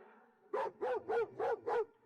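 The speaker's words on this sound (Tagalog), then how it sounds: "nagpakawala pa itong si Lijayang ng aso para kagatin kami" A dog barks five times in an even, rapid series, each bark loud, close and sharp, standing alone after a brief quiet lead-in.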